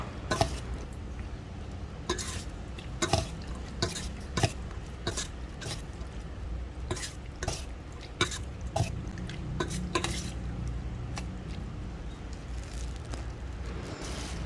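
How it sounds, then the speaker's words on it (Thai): Glass noodle salad with pork sausage and tomato being tossed, with a series of irregular clinks and scrapes of utensil against bowl, close and fairly quiet, no voices. "ต่อไปค่ะก็คนให้ส่วนผสมเข้ากันค่ะ"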